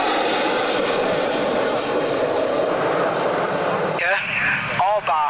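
Aircraft departing at the 1993 Coningsby airshow, a loud continuous engine roar filling the clip throughout, with a voice speaking briefly near the end over the noise.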